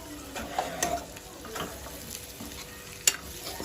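Undhiyu being mixed with Kashmiri red chili powder in a pan, with a gentle sizzle beneath repeated spoon scrapes and a single sharp clink near the end.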